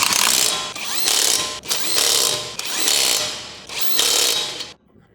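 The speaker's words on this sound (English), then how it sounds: "Use the 19mm socket with the electric impact to tighten them." Electric impact wrench with a 19mm socket tightening strut bolts on a 2012-2016 Chevrolet Cruze FWD: four loud, close bursts of rapid buzzing hammering, each about a second long with brief gaps, then a sudden stop.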